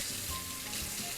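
Cold water runs steadily from a kitchen tap into a sink, a continuous broadband splashing hiss with no pauses, close by, with no voices over it.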